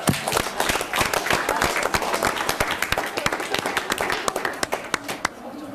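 A studio audience in a local TV studio applauds a young boy from the Albignasego youth football team, dense rapid clapping from many hands that fades near the end, with voices talking over it.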